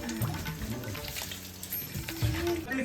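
Water splashes and trickles as it is poured out for visitors at the Kamala Shile cave shrine near Kundapura, a close and steady wet pour with faint voices around it.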